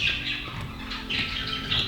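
Birds chirp in a busy, overlapping chorus of high, bright tweets and squawks over a steady low outdoor rumble, close and fairly loud throughout.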